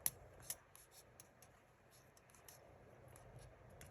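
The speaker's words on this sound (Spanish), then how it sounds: "con las tijeras voy girando. Abro y cierro." Scissors open and close as they snip through crocheted amigurumi yarn work: a few sharp metallic clicks at the start, then quiet, soft rasping cuts. Faint and close, with no voices.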